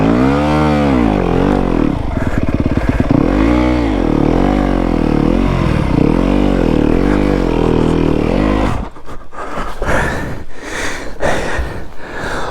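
A Yamaha WR250F dirt bike engine revs repeatedly in snow, rising and falling pitch sweeps loud and close for several seconds, then cutting into rougher, choppier bursts of engine noise.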